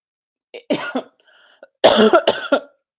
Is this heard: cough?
yes